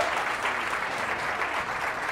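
Studio audience applause for a contestant on a Catalan spelling game show, a loud, steady round of clapping that fills the short stretch without letup.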